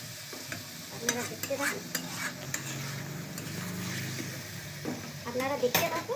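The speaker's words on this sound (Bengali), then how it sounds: "আমি এই আলুর দমটা একবার নেড়ে দিলাম, নেড়ে আবার ঢাকা দিয়ে দিলাম" Potato dum (aloo dum) stirred in a pan, with a few clinks and scrapes of a spoon over a soft, steady sizzle, close but fairly quiet.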